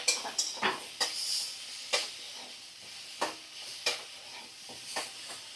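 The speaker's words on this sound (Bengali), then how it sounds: "নুন আর হলুদ গুঁড়ো দিয়ে ভালো করে দেখো আমি নাড়াচাড়া করে নিচ্ছি" Katla fish fries with salt and turmeric in a pan in a little oil, giving a soft continuous sizzle broken by about a dozen sharp scraping stirs of the spatula at irregular intervals.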